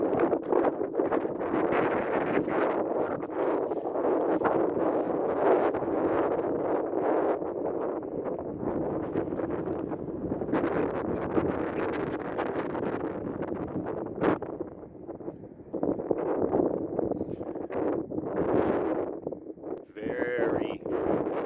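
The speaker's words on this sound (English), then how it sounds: "It's very windy, but I want to let you guys see where we're at." Strong wind buffeting a microphone in heavy, rumbling gusts on a cloudy day in Arizona, with a person talking through much of it.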